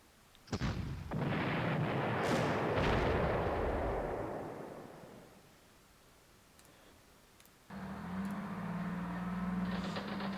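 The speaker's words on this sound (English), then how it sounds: "Now we can take the fortress by just strategic bombardment." Artillery bombardment in the Panzer Corps strategy game: a sharp blast opens into a long rolling rumble that fades out, then a second burst of firing and droning noise comes in near the end.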